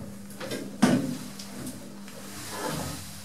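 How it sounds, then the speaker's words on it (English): Modernised Schindler lift doors sliding shut in a shopping centre, a soft rumble with a sharper thud as they meet, fairly quiet and with no talking. "Doors closing."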